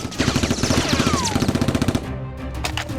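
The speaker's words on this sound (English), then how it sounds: "while the two robbers continue firing wildly at Rose." Toy Nerf blasters firing wildly during a staged fight, a fast loud rattling burst of rhythmic shots for about two seconds, then a few scattered clicks and pops.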